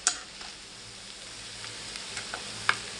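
Homemade Chinese noodles with sauces and spring onion greens stirred in a sizzling pan: a soft steady sizzle with a few faint scrapes and sharp clicks of the utensil, quiet and close.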